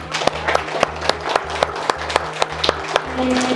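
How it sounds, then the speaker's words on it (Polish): A crowd at a kindergarten induction ceremony claps, with sharp individual claps standing out over a steady hum and a low rhythmic tone pulsing underneath throughout. "Wielkie Brawa"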